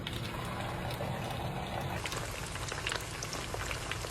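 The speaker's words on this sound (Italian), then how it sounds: "io inizio a friggere" Arancini (rice balls with saffron and speck) deep frying in hot oil: a steady, dense crackle and bubbling sizzle, fairly quiet and constant, with no voices.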